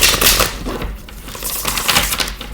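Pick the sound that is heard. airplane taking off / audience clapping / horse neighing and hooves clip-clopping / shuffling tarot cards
shuffling tarot cards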